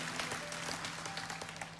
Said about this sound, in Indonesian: Jadi tepuk tangan untuk Tuhan